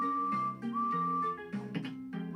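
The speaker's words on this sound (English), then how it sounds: "Let's hear Edward's whistle." A toy train whistle for Edward the blue engine from the V.Smile Thomas and Friends video game plays as a short electronic melody of steady tones over a soft musical backing, fairly quiet.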